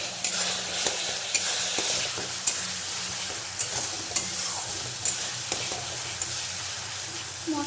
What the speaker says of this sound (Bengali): এখন আমি আঁচটা বাড়িয়ে দিয়ে আরও সুন্দর করে কষিয়ে নেব।